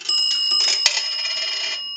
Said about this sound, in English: A dime is going to ring the bell 2 times.